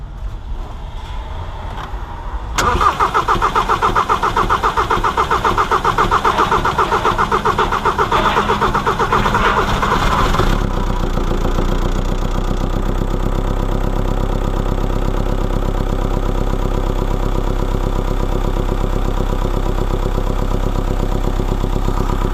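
A Volvo T5 engine takes its first start after a lifter replacement: a short crank, then it catches and revs high before settling into a loud, steady idle close by.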